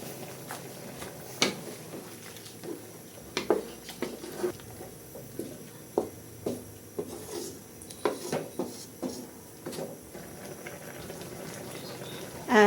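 Chicken liver adobo with pineapple chunks simmering uncovered in a pan, a low bubbling bed broken by repeated clinks and scrapes of stirring at close range.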